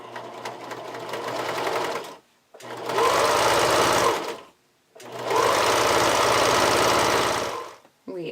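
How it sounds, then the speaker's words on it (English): A home sewing machine zigzag stitches folded elastic along the fold line of a thong, in three close, steady bursts of fast stitching separated by brief pauses. "I'm going to fold the elastic along the fold line towards the front and zigzag stitch that"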